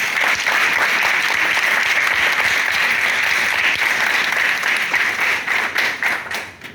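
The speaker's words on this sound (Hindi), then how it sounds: "तालियां हो जाए" Loud, close applause from an audience at a network marketing meeting, a thick, continuous roar of clapping that holds steady before breaking into fading, separate claps near the end.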